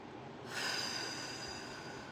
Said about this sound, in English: Everyone breathe in through your nose. Breathe out through your mouth.